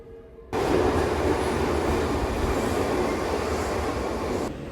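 A subway train at a Kyoto station roars in suddenly after a quiet moment, then holds a loud, steady rumble and rush of wheels and air, close by, with no talking.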